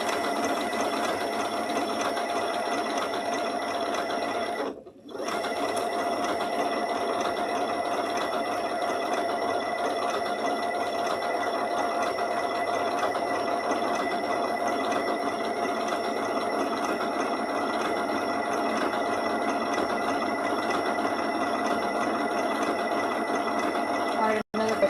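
A sewing machine runs steadily while stitching an appliqué quilt block, a continuous close whirring hum that cuts out once for a moment before resuming at the same even pace.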